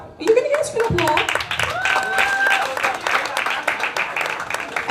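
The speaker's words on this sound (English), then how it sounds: "You can get an applause." Audience applause for student-made work shown at St. Martin Vocational School in Sint Maarten, a steady, loud patter of many hands mixed with voices talking over it throughout.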